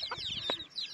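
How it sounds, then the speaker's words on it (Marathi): A few short, close clucks from a chicken kept at a rural herders' camp, quick and abrupt in a brief burst with no one talking. "होय सागर तशी काय कोंबडी गावली?"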